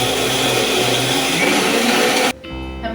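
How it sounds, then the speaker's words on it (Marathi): A mixer grinder grinds peanuts for peanut butter with a loud, steady whirring roar that cuts off sharply near the end, leaving a lower hum. "या मिक्सरचा खूप आवाज येतो."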